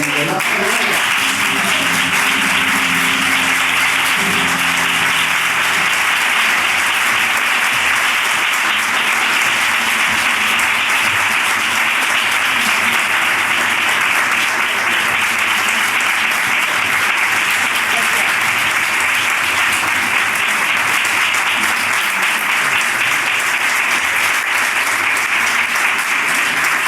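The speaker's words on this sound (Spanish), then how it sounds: "vamos a recibir con un total, absoluto aplauso a Lore Montoya y a Miguel Ángel." Sustained audience applause for flamenco performers at a bulería gathering, a dense, loud wash of clapping that continues steadily for the whole stretch, with some voices faintly underneath.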